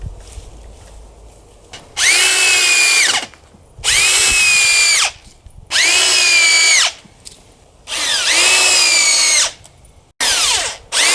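Power drill driving screws into wood while building a fish tank stand, five loud whirring bursts of a second or so each separated by short pauses, close and clear with no talk.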